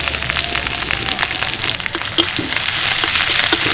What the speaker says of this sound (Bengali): কড়াইয়ের মধ্যে দিয়ে দিচ্ছি অল্প একটু সাদা তেল হাফ চামচ সাদা জিরে অল্প একটু গোটা ধনে এক চামচ মতো গ্রেট করা আদা সামান্য একটু হিং